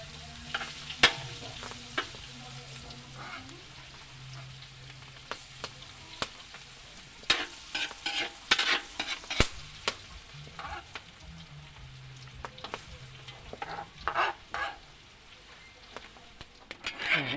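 Beef mechado fries in a pan while being stirred, with a low steady sizzle broken by frequent sharp scrapes and clanks of the spoon against the metal, close and uneven in rhythm.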